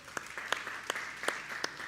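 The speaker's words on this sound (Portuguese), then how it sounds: "Uma salva de palmas para Eduardinho." Light audience applause for a volunteer called up on stage during a church talk, a short stretch of scattered clapping with a few sharper claps standing out, fairly quiet and without speech.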